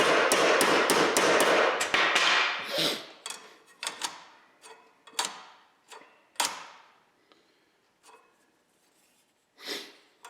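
Rapid, choked-up hammer taps on metal parts of a Model T Ford transmission, a quick dense run at first, then slower spaced single strikes with pauses, close and sharp.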